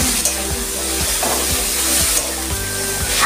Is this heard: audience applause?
no